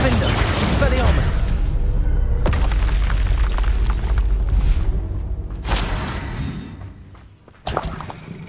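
Blasting spell explosions from combat in Hogwarts Legacy, a heavy booming barrage with crashing bursts and whooshes that rumbles continuously, then a sharp final pop near the end.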